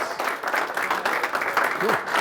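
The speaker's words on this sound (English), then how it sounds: "How about a big round of applause?" A comedy show audience applauds steadily with dense clapping, and a voice is heard faintly beneath the noise.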